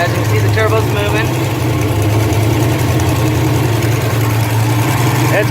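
A cold Ford Mustang 5.0 with an On3 Performance turbo kit idles steadily and loud, a deep low rumble with a torn-off electric exhaust cutout flap spinning loosely, and a voice speaks briefly over it.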